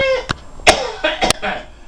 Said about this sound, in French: Ça tousse